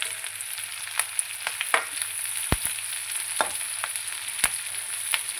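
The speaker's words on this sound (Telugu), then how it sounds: "ఆనియన్స్, క్యాప్సికము, పచ్చిమిర్చి ఈ విధంగా ఫ్రై చేసుకోవాలి" Onions, capsicum and green chillies frying in a pan for chilli chicken, a steady close sizzle broken by repeated sharp scraping taps of stirring, with no voices.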